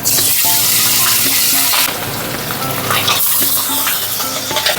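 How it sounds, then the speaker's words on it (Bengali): Hilsa fish fry lightly in hot oil, giving a loud, continuous crackling sizzle close by, with small shifts in intensity throughout. "তেলটা গরম হয়ে গেছে ভালো মতো, এবার চলুন মাছগুলো হালকা করে ভেজে নিই।"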